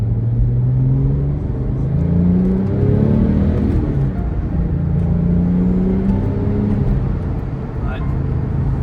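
A Porsche Turbo's engine drones low and strong as the car accelerates, a steady rumble and whir that rises and swells inside the cabin, heard throughout without any talk.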